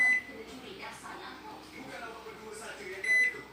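A Panasonic NN-GT35HM microwave grill oven gives two short electronic button beeps, one at the start and one near the end, with quiet talk in between.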